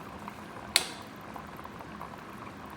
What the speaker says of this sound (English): my broth is about to boil